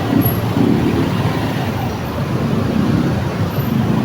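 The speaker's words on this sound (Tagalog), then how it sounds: "Grabe yan yung traffic, no?" Heavy road traffic rumbles steadily, a dense, loud wash of engine noise from cars, buses and trucks passing nearby, with a faint high whine at the start and end.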